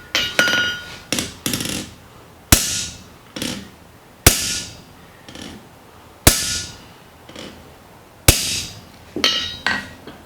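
Cross peen hammer striking steel on an anvil while forging a pick, about a dozen sharp ringing blows, each decaying briefly, spaced irregularly at roughly one to two second intervals, close and alone.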